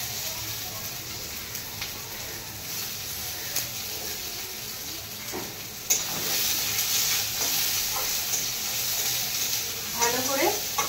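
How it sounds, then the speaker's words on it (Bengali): Chopped onion and minced garlic fry in a pan with a steady hiss and crackle, then a louder flare of sizzling with occasional spatula scrapes near the end and no clear speech. "ভালো করে পেঁয়াজটাকে প্রথমে লাল করে নেব।"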